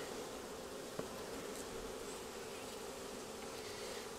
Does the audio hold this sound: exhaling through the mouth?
no